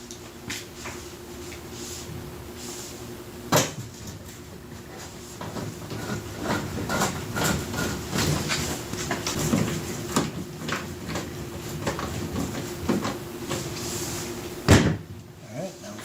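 Metal screws being driven back into a GE oven door during a glass replacement, with several sharp clacks and thumps of parts handled on a hard surface over a steady background.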